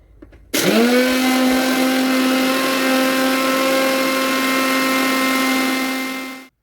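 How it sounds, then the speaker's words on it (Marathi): A mixer grinder suddenly whirs to life and runs at a loud, steady high-pitched whine for several seconds before cutting off. "आता याला मिक्सरला लावून एकदम बारीक असं वाटून घ्यायचं आहे आपल्याला"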